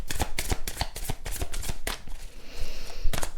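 A deck of Sanka oracle cards being shuffled up close, with rapid crisp riffling flutters and soft slaps in a quick rhythm, alone with no talk.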